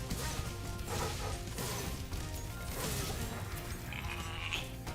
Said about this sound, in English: Look at it. It's a sheep.